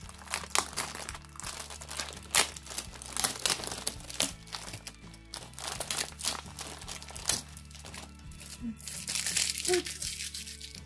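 A wrapped Christmas present is unwrapped by hand, the paper crinkling and crunching in repeated close bursts, with occasional tearing, while a person talks over it.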